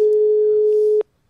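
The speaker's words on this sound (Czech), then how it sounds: "Sami slyšíte, že to tam vyzvání?" A single telephone tone sounds while a radio studio dials a caller, one steady, loud, clean pitch held for about a second and then cut off abruptly into silence.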